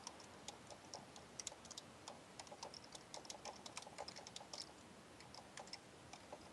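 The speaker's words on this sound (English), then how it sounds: "now there's a lot of typing" Rapid typing on a computer keyboard, with light, irregular clicks in quick bursts, faint and close, with no talking.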